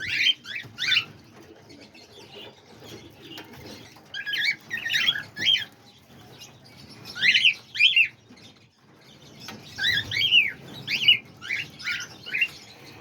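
Young cockatiels, lovebirds and parakeets in an aviary chirp in repeated bright clusters, with bursts of busy calling recurring throughout over faint low background rustle and patter.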